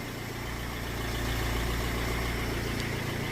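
Diesel tractor engine idling at a farm, a steady low rumbling drone with constant vibration, heard alone at moderate loudness.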